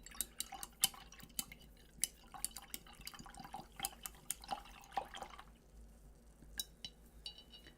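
A paintbrush is rinsed in a water cup while painting with acrylics, giving close, faint splashes, drips and light clinks against the container in an irregular series, with quiet pauses between.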